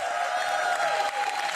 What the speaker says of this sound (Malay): Satu lagi tepukan untuk Jason Leong.